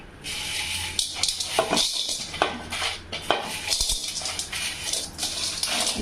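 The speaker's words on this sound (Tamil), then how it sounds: "ஒரு வடைச்சட்டி வச்சுருக்கேங்க. இதில் வந்து எல்லா பொருளையும் போட்டு நம்ம ரொம்ப வறுக்க வேண்டியதில்லை, அப்படியே சூடானால் போதும்." Spices being dry roasted in a kadai for masala powder, with busy metallic scraping and clattering of a spoon against the pan over a faint hiss, close and continuous, no speech.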